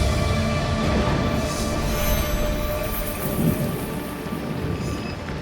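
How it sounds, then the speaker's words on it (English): Storm at sea in Assassin's Creed Shadows beside a ship: a loud, continuous wash of heavy rain and wind with low rolling thunder rumbling beneath it, with no voices. "Now this storm is crazy."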